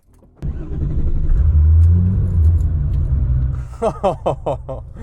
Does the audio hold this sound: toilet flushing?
no